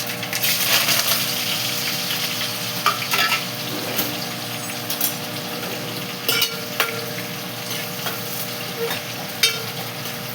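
Cumin, garlic, dried red chillies and curry leaves fry in hot oil with a close, steady crackling sizzle, broken by sharp pops and the clink of stirring, with no talk.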